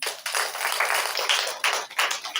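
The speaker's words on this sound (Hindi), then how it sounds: "ताली तो बजाएंगे।" An audience at a positive-thinking health class in Kohalpur, Nepal claps in rhythmic unison, a string of crisp, evenly spaced claps that sound fairly close.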